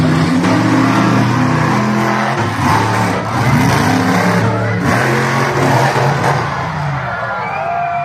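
Monster truck engines roar and rev loudly at the start of a race at a Bowling Green, Ohio monster truck show, the throttle rising and dropping in surges while the crowd cheers behind.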